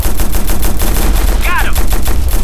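Rapid automatic gunfire in the video game Operation Flashpoint Red River, loud repeated shots in quick rhythm, with a brief shouted voice midway.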